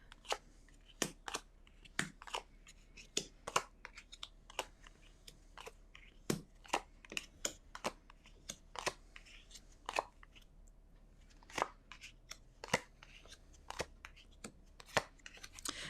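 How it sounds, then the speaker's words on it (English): Tarot cards laid out one by one for a spread make quiet, crisp snaps and slaps on a table, irregularly spaced over a soft, near-silent background. "let me first lay the cards and then I'll tell you"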